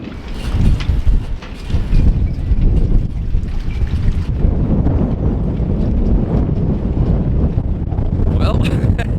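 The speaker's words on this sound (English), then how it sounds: "Whew, it's windy though." Strong outdoor wind buffeting a microphone on a cold morning, heavy low rumbling gusts that surge and fade throughout, with no clear speech over it.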